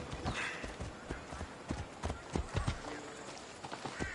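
Horse hooves clip-clop in an irregular, fairly close series of thuds, with a faint whinny-like sound and what may be voices in the background.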